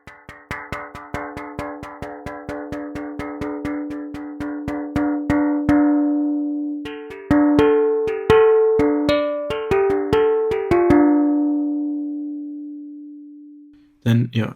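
Percussive synthesizer hits from AAS Chromaphone 2, bright pitched cowbell-like tones struck in quick repeated runs as the hit position changes, each note ringing briefly, with a sustained tone near the end and a final cluster of hits, no voice.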